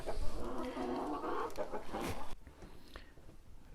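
Several chickens cluck in a busy jumble of farmyard noise, close by, then the sound drops to a quieter background with a few faint calls.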